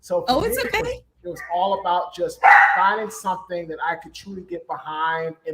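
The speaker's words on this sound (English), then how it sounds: "sorry about my dogs in the background." Dogs barking in the background, a few sharp yips and barks mixed under someone speaking steadily close to the microphone.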